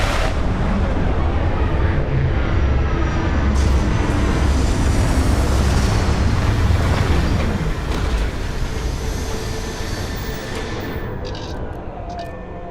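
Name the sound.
spaceship retro rockets firing during landing in video game Starfield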